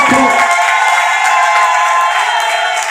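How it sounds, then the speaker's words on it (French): A church congregation cheers and acclaims the Lord in a loud, dense burst of voices, shouts and whoops that fills the room continuously for a few seconds. "Est-ce que tu peux acclamer le Seigneur encore?"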